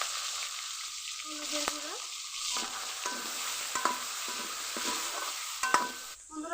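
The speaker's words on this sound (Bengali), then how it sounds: "এখন কাঁকড়াগুলো ভেজে নিব" Small crabs frying in oil in a pan, a steady sizzle with stirring scrapes and clinks, while a voice speaks briefly over the cooking.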